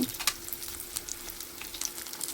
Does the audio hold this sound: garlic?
yes